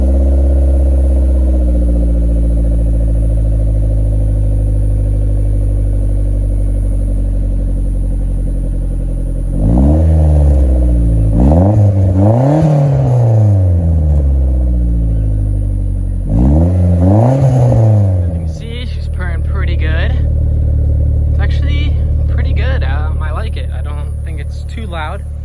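A turbocharged Mazda Protege5 with a newly installed exhaust idles loudly, then revs sharply twice in rising and falling bursts before settling back to a deep idle, with a voice speaking over it near the end.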